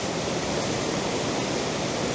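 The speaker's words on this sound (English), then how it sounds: "The water roaring here is just so loud." Water roars out of a rock crack in a waterfall: a loud, dense, unbroken rush that stays steady and close throughout, with no voices over it.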